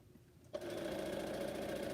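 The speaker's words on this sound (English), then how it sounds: "now it's just sewing. This machine does not sew fast." A domestic, non-industrial sewing machine stitching fabric face masks starts up after a moment of quiet, then runs at a steady, moderate, close whir.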